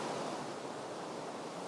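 High river water at Carrbridge in the Scottish Highlands rushes beneath an old pack horse bridge, a steady, loud, broadband roar with no breaks and no voices.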